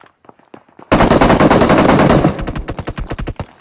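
Automatic gunfire in the mobile battle royale game PUBG Mobile: after a few faint clicks, a loud sustained burst of rapid shots lasts over a second, followed by a string of separate quick shots, close and without talk.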